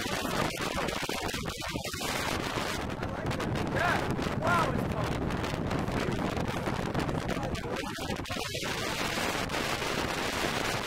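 Strong outdoor wind in Toronto buffets the microphone in a steady, loud rumble for the whole stretch, with gusts rising and falling and no clear talk over it.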